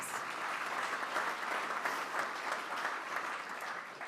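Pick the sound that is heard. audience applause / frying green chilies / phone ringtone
audience applause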